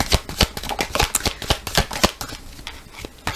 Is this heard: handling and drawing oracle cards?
yes